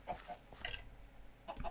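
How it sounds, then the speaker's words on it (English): Minecraft chickens clucking in short, clipped bursts: a couple of quick clucks, a pause, another, then a closing pair, fairly close and with no talk over them. "The chickens are my priority."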